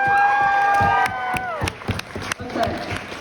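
A crowd at a high school track and field team banquet cheers and claps for a woman, with whoops and shouts mixed into the applause, which fades quickly into scattered claps and voices.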